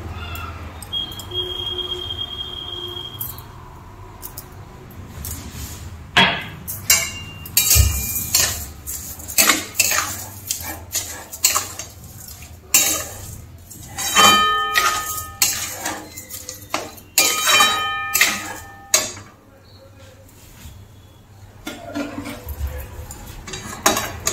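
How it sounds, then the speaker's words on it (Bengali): Coconut filling with crushed cardamom seeds is stirred in a pan for dudh puli, giving irregular, close clinks and scrapes of a utensil against the metal pan, with some louder clattering bursts and no talking. "এইভাবে নেড়ে চেড়ে নারকেলের পুরটাকে তৈরি করে নেব"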